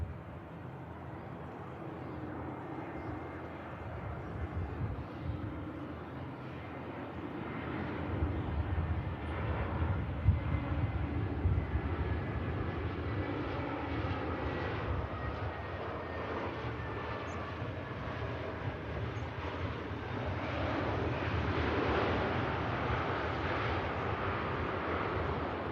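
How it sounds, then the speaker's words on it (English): A Vueling airliner arrives on runway 05 left at Manchester Airport, its engines a steady broad roar that swells slowly as the plane nears, heard from outdoors at a distance. "Eyes to the skies for this Vueling arrival."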